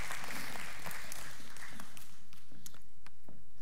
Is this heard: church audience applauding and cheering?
yes